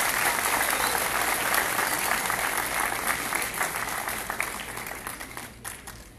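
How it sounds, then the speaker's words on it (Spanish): An audience at a motivational conference gives a loud, dense round of applause that stays full for several seconds, then thins out and fades toward the end. "Me da un aplauso por ella."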